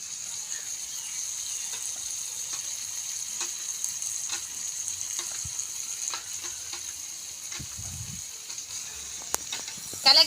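Vegetables, salted and stirred in a frying pan, give a soft, steady sizzle with scattered light clicks and scrapes from the stirring, fairly quiet and with no one talking.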